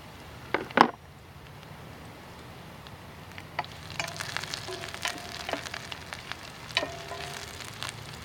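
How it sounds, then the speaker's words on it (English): Food sautés over a small wood fire on a Stoveaway camp stove, a faint crackling sizzle with scattered pops and a couple of sharper utensil clicks, quiet and close, building slightly midway. "Sauteing nicely there"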